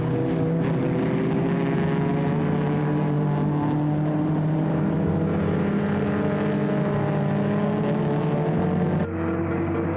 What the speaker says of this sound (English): Jacques Morstadt in his blue Datsun GX Coupe is being chased down by Laurens Verwey's orange and black Datsun 120 as they round turn 6